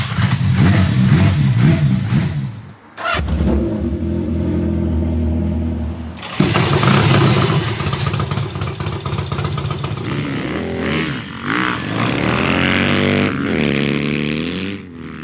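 Motorcycle engine pulled from a barn and running for its first ride, revving loudly and continuously with rising and falling pitch and brief drops in throttle, close by with no talking.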